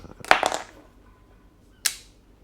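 A DJI Osmo Action 3 magnetic quick-release mount snaps and locks into place, heard as a couple of close, sharp clicks followed by a second crisp click a moment later, with no talking.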